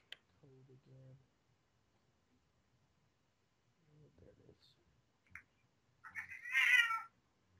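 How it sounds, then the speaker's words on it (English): An elderly house cat, about 13 years old, gives a few short meows, then a loud drawn-out yowl near the end, close to the microphone in an otherwise quiet room. "that's my cat. He's kind of old and he yells a lot."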